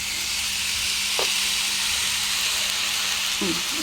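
Coriander leaves frying with garlic in a hot pan give a constant loud sizzling hiss from start to end, with a brief faint voice near the close.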